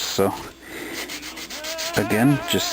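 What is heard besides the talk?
sanding seam line on plastic model kit aircraft wing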